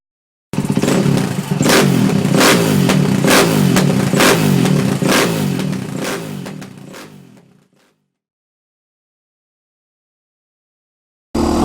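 Two dual-sport motorcycles, a KTM 530 and a BMW 650 Dakar, rev loudly and steadily for about seven seconds on a gravel Forest Service road. The engine noise then fades quickly into silence, and a brief burst returns at the very end.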